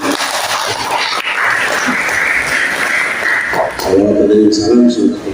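An audience at a university visit bursts into applause. The clapping swells and carries on under talk, then brightens toward the end of the clip.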